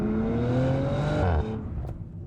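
A 2023 Audi RS5 Competition with its V6 exhaust holds a loud, steady engine drone, then the pitch drops sharply as it eases off, leaving a quieter idle-like hum close by.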